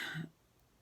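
A brief, quiet throat clearing, a muffled half-cough that is quickly cut short and followed by near silence.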